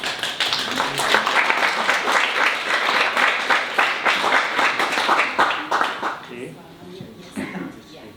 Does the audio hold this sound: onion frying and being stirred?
no